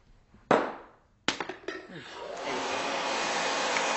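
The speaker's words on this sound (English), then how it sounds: "How about a hair dryer?" A couple of sharp clicks and knocks, then a hair dryer switches on and blows in a steady, loud roar that holds to the end.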